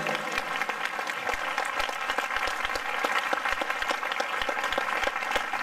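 A congregation clapping for Jesus during a church service, a dense, steady mass of many hands clapping in rhythm, continuous and moderately loud throughout.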